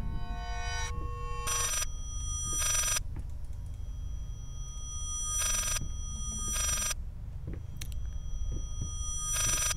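A telephone rings in the horror video game Layers of Fear, in repeated loud bursts of electronic ringing separated by short pauses, over a steady low background drone with no talking.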